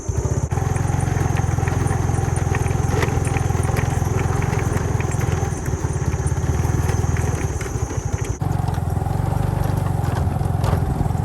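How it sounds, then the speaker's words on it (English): A motorbike engine runs loudly and continuously nearby on a farm in Thailand, a steady low rumble with rattling overtones and a brief dip near the end. "Better get the motorbike actually, so I can shoot back when I need to."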